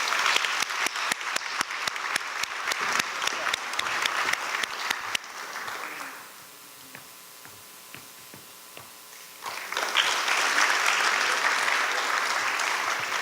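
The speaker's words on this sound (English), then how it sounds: "Maybe one more round of applause" An audience applauds award recipients at a Yom HaShoah ceremony. Dense, steady clapping fills the room, thins out to a quiet lull, then swells again into a full round of applause.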